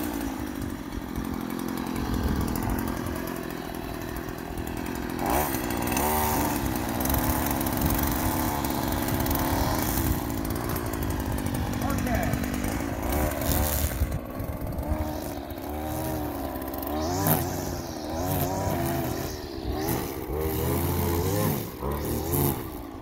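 A Stihl FS56RC gas string trimmer runs steadily close by, trimming along siding and foundation, its two-stroke buzz holding a constant pitch with brief rises and dips in revs throughout.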